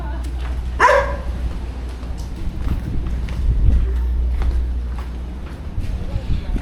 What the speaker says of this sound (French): Agressé par les chiens.